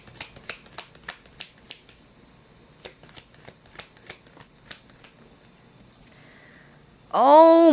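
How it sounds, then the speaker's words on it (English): Tarot cards are shuffled in a quick run of crisp riffling bursts, a pause, then another run of shuffles, close and clear, ending as a loud voice breaks in. "let's try to pull up another set of cards"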